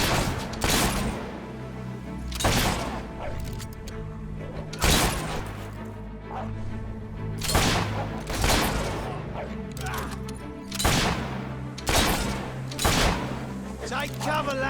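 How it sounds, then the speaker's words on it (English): Gunfire in the video game Fable 3, heavy booming shots at a steady interval of roughly one to two seconds, each loud and punchy over a continuous battle background, with voices talking underneath. "Take cover, lads. There's lead in the air."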